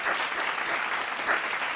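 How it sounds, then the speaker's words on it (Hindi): Audience applause at a virtual awards celebration for promoted winners, a moderately quiet, continuous crowd clapping that swells and eases slightly throughout. "तालियां।"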